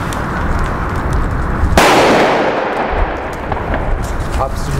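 A German Böller firecracker explodes outdoors with one sharp, loud bang that rolls off into a noisy, echoing tail, amid wind and ambient noise.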